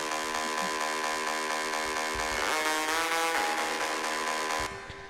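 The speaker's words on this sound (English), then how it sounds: "So the lead sounds like this." A bright, buzzy synthesizer lead holds sustained notes with a pitch glide in the middle, loud and continuous, then cuts off near the end.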